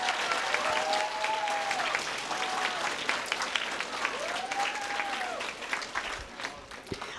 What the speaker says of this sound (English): Guys, let's give your parents and your families a round of applause.